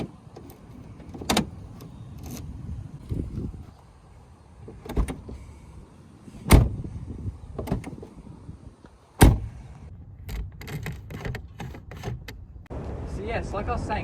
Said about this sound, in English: to leave the car is the same idea. It's got a latch like that